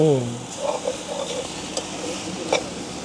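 Drumstick curry sautés in a pan with a continuous low sizzle and occasional spoon scrapes and clinks as it is stirred, close by and moderately quiet.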